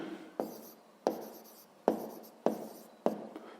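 Pen strokes writing numbers on paper during a sixth-grade maths lesson, five distinct scratchy strokes spaced about half a second to a second apart, close and fairly quiet with no talk.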